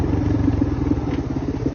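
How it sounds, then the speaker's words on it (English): A 1983 Yamaha 225 DX three-wheeler engine runs up close with a loud, steady, throbbing single-cylinder putter and mechanical clatter, continuous until it cuts off at the end. "This one right here is a 1983 Yamaha 225 DX"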